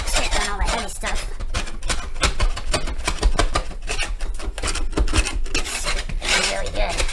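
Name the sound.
sanding or scraping down a drywall patch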